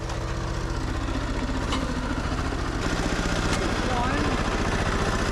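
A diesel snow blower engine runs close by with a steady, low, throbbing chug that holds an even pace and grows slightly heavier toward the end.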